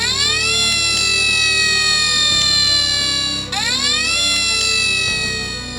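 Flynn, a toy fire engine from a Thomas Trackmaster train set, sounds a loud continuous wailing siren that sweeps and restarts midway, steady and close with no talking over it.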